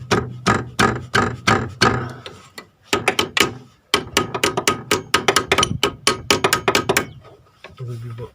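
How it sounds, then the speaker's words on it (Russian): Hammer blows knocking a bracket out of a car's suspension: rapid bursts of sharp metallic strikes that ring loud and close, with brief pauses between the volleys. "Выбиваем такую вот скобу."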